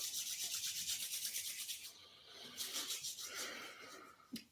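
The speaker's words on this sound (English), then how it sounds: "let's rub our palms" Palms rub together in a steady, close, breathy swishing during a quiet meditation, a rhythmic friction hiss that pauses briefly, resumes, and ends with a soft tap.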